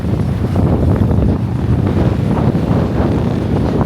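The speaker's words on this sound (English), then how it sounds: "hear the water hitting against the rocks and hear the wave coming in" Ocean waves washing against rocks on a Jamaican shore, a loud continuous rushing surge heavily buffeted by wind noise on the microphone, with no talk.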